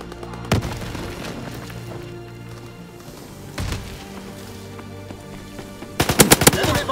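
SMG fire in a multiplayer shooter video game: a single shot, another a few seconds later, then a short rapid burst of automatic fire, moderately loud over steady in-game background noise.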